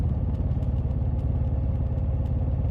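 Close, continuous rumble of a motorcycle engine during an after-hours night ride, evenly pulsing low throb with light clatter on top, no talking.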